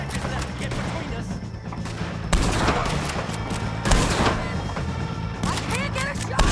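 In a Red Dead Redemption 2 shootout against O'Driscoll gang members, loud gunfire bursts again and again in quick volleys, some heavy thumps among them, with voices mixed into the fight.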